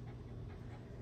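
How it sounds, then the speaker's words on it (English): Dog panting in a home while thunder frightens her, a steady, fast breathing rhythm heard close but faint under a dense broadband hiss, with no talk. "She's just panting and she's just checking things out"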